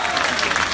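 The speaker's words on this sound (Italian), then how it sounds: "Facciamo un applauso forte forte." An audience at a live concert in Brusciano claps loudly in a short, dense, continuous wash of applause.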